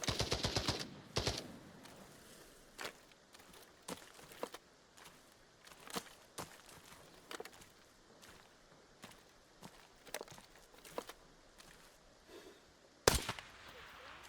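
Gunfire in Arena Breakout Infinite, a quick burst of automatic shots at the start and another at the end, with scattered single sharp reports and footsteps in between, fairly faint overall.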